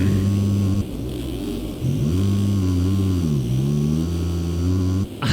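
KTM 450 FC 2017 dirt bike engine sound mod in MX Simulator, a loud, close buzzing four-stroke drone that holds steady, dips, then revs up and down in smooth swells, with two brief drops in level.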